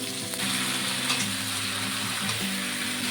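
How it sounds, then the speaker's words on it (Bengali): Potato, brinjal and pumpkin pieces hit the hot oil left from frying morola fish, giving a loud, steady close-up sizzle that runs throughout with no talking. "এই মাছ ভাজা তেলের মধ্যেই আমি সবজিগুলোকে দিয়ে দেবো।"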